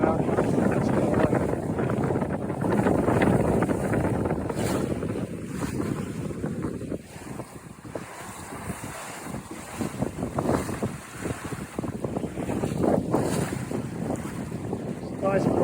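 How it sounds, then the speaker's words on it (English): Broad breeze buffeting a Buccaneer 18 sailboat under sail, heavy wind rumble on the microphone mixed with water washing against the hull, continuous and loud with gusty swells and dips. "It's a nice broad breeze going right now."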